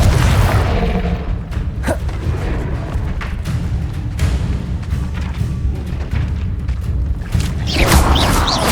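Fire and blasting spell impacts in the Hogwarts Legacy video game, a run of heavy booms and thuds with crackling bursts, loud and continuous, ending in a bright crashing explosion.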